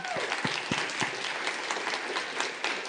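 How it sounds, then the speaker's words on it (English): Lecture-hall audience applauding a faculty speaker, a steady wash of many hands clapping at moderate volume with a few sharper nearby claps standing out near the start. "Let's give Dr. Woiak another round of applause."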